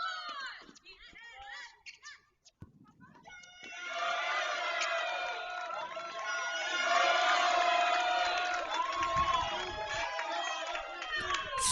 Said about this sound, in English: Strong contingent of Torero fans making their presence felt and cheering on their 39th ranked team in the nation